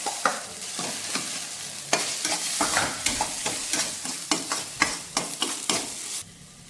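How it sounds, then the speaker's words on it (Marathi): Finely chopped tomato goes into hot oil with roasted coconut for a spicy Maharashtrian cucumber amti, giving steady close sizzling and frying broken by repeated stirring scrapes, with no voices. "आता याच्यामध्ये टाकूया आपण टोमॅटो बारीक चिरलेला."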